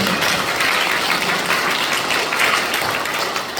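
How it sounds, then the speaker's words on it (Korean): A crowd at an outdoor rally in Busan about election fraud breaks into loud, dense, sustained applause that fills the space from start to finish and eases slightly at the very end. "함께 해주신 우리 박한나 회장님, 양재학 회장님 두 분께 다시 한번 박수 부탁드립니다."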